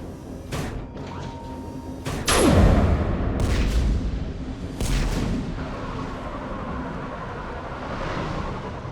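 Heavy guns fire in the sci-fi shooter Mass Effect 3, sending out several deep booming blasts a second or two apart, each with a long rumbling tail, over low background noise and with no voices.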